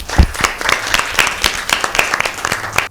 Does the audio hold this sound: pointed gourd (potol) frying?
no